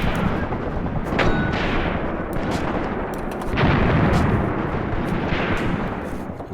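Mortar fire and distant battle in the WWII strategy game Graviteam Tactics: Mius Front, a dense rumbling din of thuds and booms with louder swells, continuous and without speech.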